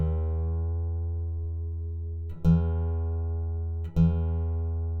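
Guitar string being tuned up to pitch, a single sustained plucked tone ringing alone, re-plucked twice with the pitch rising slightly each time.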